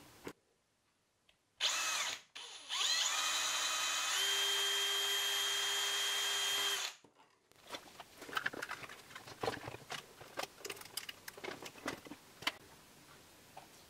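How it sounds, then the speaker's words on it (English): A small power drill whines steadily for about five seconds drilling a small hole in 3D-printed plastic, pitch rising slightly as it bites, followed by scattered clicks and light handling taps. "I'll just have to drill a little hole through"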